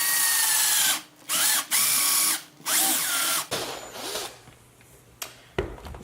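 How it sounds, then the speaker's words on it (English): A power drill with a 3/4 inch bit bores a hole through a panel for a stereo switch, whining loudly in three long bursts with brief pauses, then quieter bits of handling and tool noise. "So let's get that drilled."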